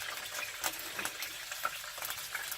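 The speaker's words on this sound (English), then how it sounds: "It's going to go straight into my hot oil." Two slices of smoked bacon frying in hot oil, giving a steady broadband sizzle with sharp spitting pops and crackles scattered throughout, close and moderately loud with no talking.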